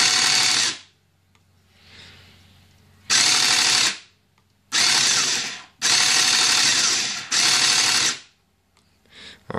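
Nerf Rapidstrike blaster's flywheel motor spinning up without a brake, loud whirring bursts lasting about a second each with brief pauses between, close and alone.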